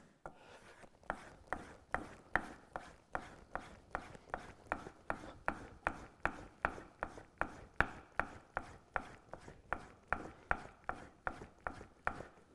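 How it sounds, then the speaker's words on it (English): A woodworking chisel sharpened by hand, about thirty regular rasping strokes at a steady rhythm, close and fairly quiet with no talking. "A minute to sharpen a chisel like this?"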